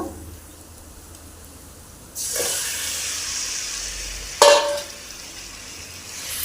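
Chicken frying in a pan with chili powder over low heat, a steady sizzle that swells after a quiet start, with a brief louder burst of stirring or hiss midway.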